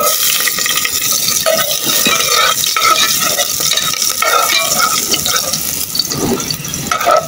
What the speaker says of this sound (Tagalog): simulan natin sa paggigisa ng tatlong ingredients natin, yung bawang, sibuyas, at luya